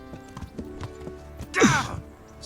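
Horse hooves clip-clop at a steady walking pace in the medieval role-playing game Kingdom Come: Deliverance, with a sharp whinny near the end.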